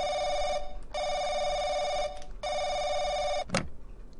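A telephone rings in the horror RPG game The Crooked Man, giving two long, loud, close electronic bell rings separated by a short pause, with a brief click at the end.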